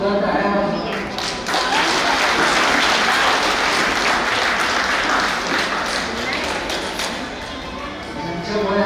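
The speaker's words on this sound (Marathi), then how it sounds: "जोरदार टाळ्या वाजवा" Loud, sustained audience applause at a felicitation gathering, a thick wash of clapping that swells and holds, with some faint voices mixed underneath.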